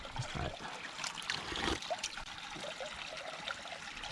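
Spring water flows steadily inside a spring house at about six gallons a minute, a continuous close trickling and splashing without any talk.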